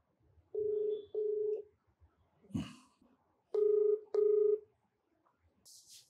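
A telephone number is dialed with touch-tone keys: four clear steady beeps in two pairs, broken by a short rustle midway, then a faint trailing sound at the end.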